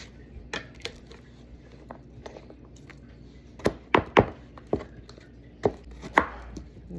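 Ginger is crushed on a board for hot and sour chicken soup, giving a series of sharp, close thuds, a few spaced out at first and then a quicker cluster of heavy blows.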